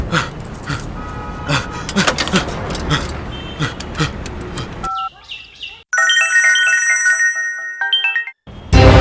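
A phone rings with a bright, repeating electronic tone near the end, after a stretch of busy talk and street noise. The ringtone is loud and close.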